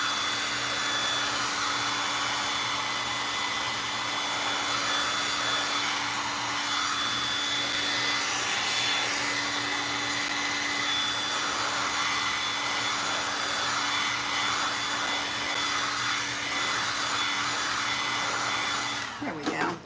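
A hair dryer blows steadily on painted canvas, a continuous loud whirring hum with an airy hiss that runs unbroken for the whole stretch before cutting off at the end.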